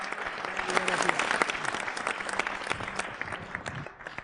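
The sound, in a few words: audience applause welcoming poet Saurabh Jain Suman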